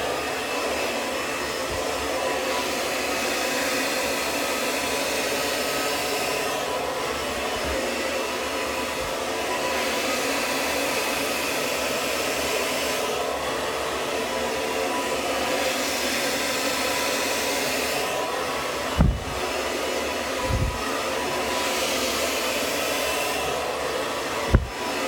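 Hair dryer running on high velocity and high heat during a round-brush blowout, a loud steady roaring whoosh throughout with a few brief bumps and knocks near the end.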